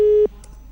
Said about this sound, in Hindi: फोन कट गया है